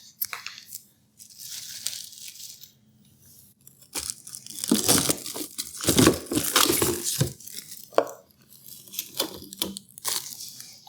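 Packing tape is peeled and torn off a new Ecozy 26 lb bullet ice maker, giving loud, close crinkling, ripping strips that come in several bursts with brief quiet gaps.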